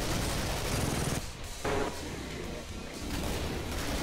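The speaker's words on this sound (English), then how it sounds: "He's opening fire." An enemy opens fire in a video game: sustained heavy gunfire and crashing impacts run close and loud throughout, easing briefly in the middle before the barrage builds back up.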